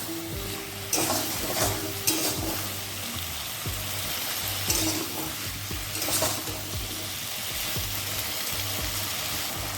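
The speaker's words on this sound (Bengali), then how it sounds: "এবার এটাকে হলুদ লবণটাকে গাঠি কচুর সঙ্গে ভালো করে মিশিয়ে নিতে হবে" Ghati taro pieces coated with turmeric and salt sizzle over raised heat in a pan, a loud close frying hiss punctuated by repeated scraping and knocking stirs, with no talking.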